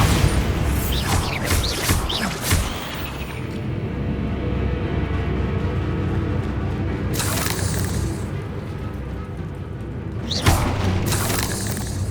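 A Bombarda spell explodes in the Hogwarts Legacy video game, heavy booming blasts with crashing debris rumbling over a dense, low game soundscape, with another burst later on.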